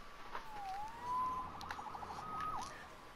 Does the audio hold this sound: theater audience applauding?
no